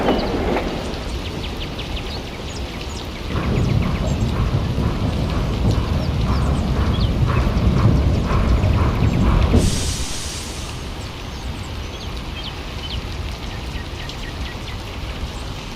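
Heavy rain pours during a thunderstorm, a steady dense hiss swelling for several seconds before easing to a lighter continuous patter, with a faint bird call near the end and no speech.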